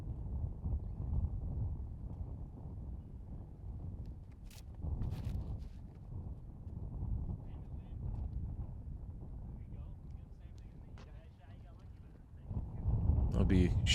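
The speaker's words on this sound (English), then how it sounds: "Now you see that wind actually ripping from left to right. Certainly hear it pick up on the mic." Wind gusting across an open disc golf course, buffeting the microphone in a steady low roar that swells louder near the end, with a commentator talking over it.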